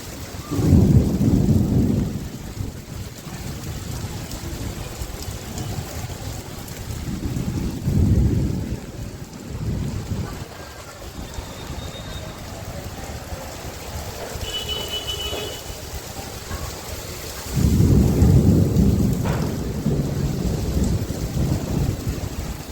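Heavy rain pours steadily, with deep rolls of thunder rumbling loudly at the start, midway, and again near the end.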